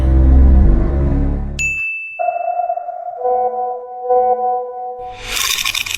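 A cartoon phone message notification rings out as a bright high ping followed by sustained chiming tones, after a loud low rumble fades and before a burst of noise at the end.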